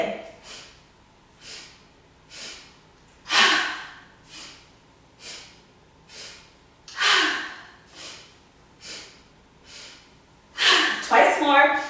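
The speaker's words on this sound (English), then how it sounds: "So you inhale 1, inhale 2, inhale 3, exhale down." During a yoga breathing exercise, a person takes three short stepped inhales through the nose and then a longer exhale, the cycle repeating in an even rhythm, close and clear, with a voice speaking between the breaths.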